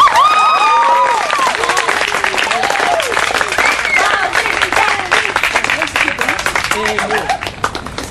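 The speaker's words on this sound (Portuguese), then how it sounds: "Eu gostaria que, quando eles fossem entrando, vocês aplaudissem" Students in a school classroom break into sustained, dense applause for a guest walking in, with scattered cheers and excited voices over the clapping, which thins out near the end.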